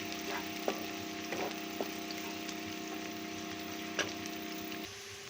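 Onions browning in a hot pan for a rajma lobia kidney bean curry, giving a steady close sizzle and crackle with a few sharp pops and spits, and the frying noise settling quieter at the very end.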